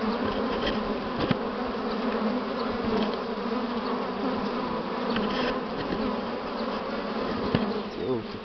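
Buckfast honey bees swarm around their hive, a dense, steady, close-up buzzing that holds unbroken throughout, with individual bees zipping past now and then.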